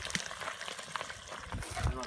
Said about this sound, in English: look how good that chicken's sizzling down in there